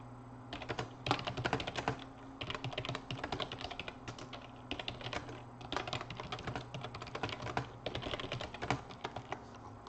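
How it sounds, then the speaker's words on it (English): Steady, fast typing on a new computer keyboard, with clustered bursts of key clicks running the whole time under a low constant hum, close and moderately quiet. "I can't type on this new keyboard."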